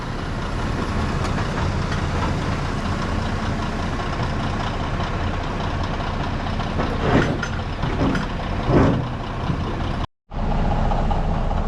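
Dirt trucks run at a site where holes are being filled, producing a constant heavy diesel rumble with brief reversing-beep tones partway through and a short cutout near the end.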